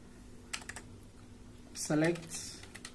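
Keys clatter on a computer keyboard as commands are entered in a Windows recovery console, with scattered light taps and a brief spoken phrase in the middle.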